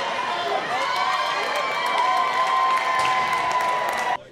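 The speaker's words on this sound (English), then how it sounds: "It was as electric of a crowd as you can get" Packed arena crowd at City National Arena cheering and shouting during a Vegas Golden Knights practice, a loud continuous roar with whistles and applause that cuts off abruptly at the end.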